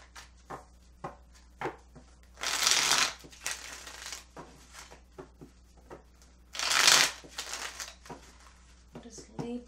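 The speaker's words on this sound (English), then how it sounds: "So let's get started with the shuffling." Tarot cards shuffled by hand in two bursts of riffling and crisp snapping, with softer card handling and small taps between them, close and fairly loud.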